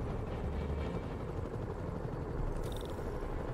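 Helicopters hovering over the city in Marvel's Spider-Man on PS4, a low, steady rotor rumble mixed with distant gunfire-like bursts and a brief high whine near the end.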